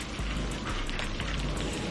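Steady rain pours down in a cartoon scene, a dense, even hiss of falling drops with soft patter on surfaces, continuous and fairly loud throughout, with no voices.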